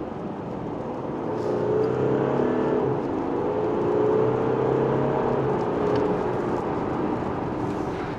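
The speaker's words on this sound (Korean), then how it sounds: "확실히 엔진 사운드가 굉장히 묵직하죠." An Audi A6 50TDI's diesel six-cylinder accelerates, heard from inside the cabin as a deep, smooth drone whose pitch rises and swells, then climbs again, steady and moderately loud with no talking.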